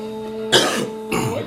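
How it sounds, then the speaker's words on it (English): A man on a podcast clears his throat twice, two short harsh rasps close to the microphone, the first sharper and the second softer, over a faint steady hum. "Clear my throat real quick."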